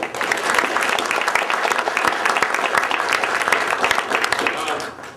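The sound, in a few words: audience applause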